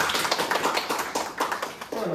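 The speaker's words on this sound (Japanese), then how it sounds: "皆さんぜひ大きな拍手で大橋先生を迎えましょう" Applause from a church congregation at a Sunday worship service in Nagoya, welcoming the preacher; dense, steady clapping fills the room at moderate loudness with a voice briefly audible near the end.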